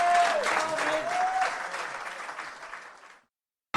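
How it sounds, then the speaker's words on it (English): A studio audience applauds the lads in a steady round of clapping on a local radio show, a thin tone running faintly underneath, fading out and then cutting to silence near the end. "give the lads a big round of applause"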